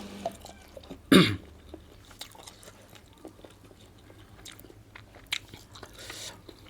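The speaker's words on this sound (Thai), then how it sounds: "กัดพริกหน่อยเดี๋ยวรู้เรื่อง" A single sharp bite into a hot chili pepper, close and brief, followed by faint chewing and small mouth sounds at a low level, during a Thai meal of fermented sausage with garlic.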